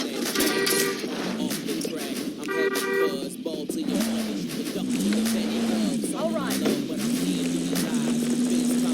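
Vehicle engine in Call of Duty Warzone Plunder mode, a steady droning hum with rising and falling pitch as the car drives, mixed with game effects, a horn-like tone and overlapping player voices.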